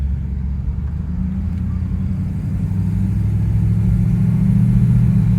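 A 1954 Chrysler New Yorker engine running as the car shifts from first to second gear, a loud close low rumble that builds steadily in level over a few seconds.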